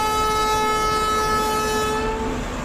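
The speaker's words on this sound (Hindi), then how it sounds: "अपना हॉर्न बजाओ, एक बढ़िया वाला लंबा सा हॉर्न बजाएंगे" A long, sustained train horn in an Indian railways train simulator video game blares loudly and steadily with a rich harmonic tone, then starts to fade near the end.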